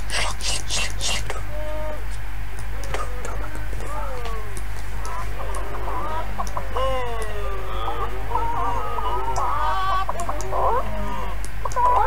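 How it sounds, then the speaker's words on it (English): In the video game Hidden Folks, on a farm level, a chicken clucks in quick, busy bursts among other cartoonish farm sound effects, with a person talking quietly over the game audio. "There's a chicken in there."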